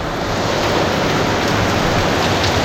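Steady, dense rain hisses evenly throughout on a hill-station market street with parking nearby, a loud continuous wash of noise with no voices.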